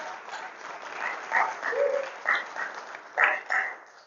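Scattered clapping from a small conference audience after a keynote swells and fades in uneven bursts, with no one speaking over it.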